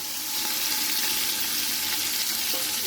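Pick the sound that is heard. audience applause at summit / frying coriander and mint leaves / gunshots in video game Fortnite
frying coriander and mint leaves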